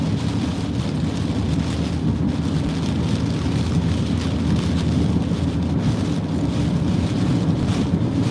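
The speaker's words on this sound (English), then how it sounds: "The winds are just too extreme." Steady, roaring hurricane wind buffets the microphone in Louisiana during Hurricane Francine, a dense continuous rush with slight surges throughout and no talking.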